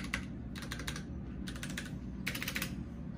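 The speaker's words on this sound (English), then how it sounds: "that is a bad sounding space bar." Bad-sounding space bar on a mechanical keyboard, tapped in four quick clustered bursts of clacks, fairly quiet and close over a low background hum.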